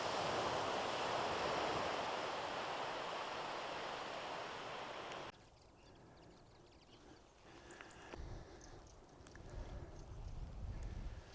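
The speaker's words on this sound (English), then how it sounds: "I could just sit here all day and just listen to the waves." Ocean waves break and wash along the shore at Llanddwyn Island, a loud, steady roar of surf that abruptly drops to a softer, closer lapping wash with occasional rising swells.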